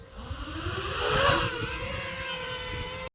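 Two DJI FPV drones lift off and fly, their rotors giving a steady, close, buzzing whine with pitch that rises and shifts as they climb, loudest just past the first second, then holding level until an abrupt cut.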